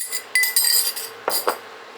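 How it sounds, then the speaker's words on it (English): A spoon stirs beef bouillon broth, giving a few light, ringing clinks against the container, close and brief, over a faint background hiss. "You give that my broth a little bit of a stir there"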